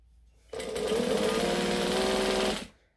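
A domestic sewing machine runs steadily for about two seconds, stitching bag pocket pieces at a short seam allowance, with a dense even motor hum and rapid needle chatter that starts abruptly and stops cleanly.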